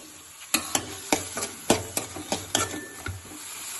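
Onion and tomato frying in a pan with salt, a soft sizzle under a run of about a dozen regular scraping stirs from a spatula, close and without talking.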